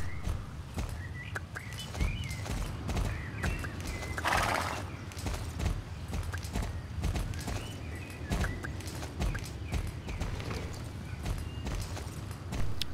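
Hooves clip-clop steadily as a horse is ridden in the online game Star Stable Online, with occasional neighs and whinnies and faint birdsong in the background, continuous and fairly close throughout.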